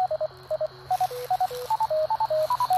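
A ham radio fox hunt transmitter signal: short pitched beeping tones stepping up and down in a quick melodic pattern, sounding clearer and louder partway through as body blocking of the signal ends.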